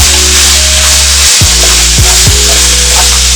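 Minced beef frying with stock cubes and salt for meat pie filling, a loud steady sizzle with a low hum and a few scraping stirs of the spoon in the pan.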